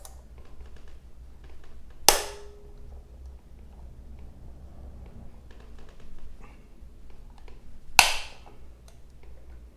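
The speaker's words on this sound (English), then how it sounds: "Now we're gonna work on loosening these up here to get the rest of the air cleaner off" Screws being worked loose on the air cleaner of a Harley Sportster, a few faint ticks and small clicks with two sharp metallic clacks standing out, several seconds apart.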